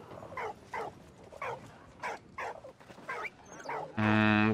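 Dog barking in the World War I video game Valiant Hearts: The Great War, a run of about nine sharp, evenly spaced barks close up, followed by a brief sustained tonal game sound at the end.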